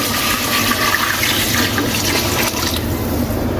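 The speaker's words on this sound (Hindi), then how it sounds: "अब हम इसके अंदर पानी डालेंगे।" Water pours steadily into a large cooking pot being prepared for chicken biryani. The gushing, splashing stream sounds close and continuous the whole time.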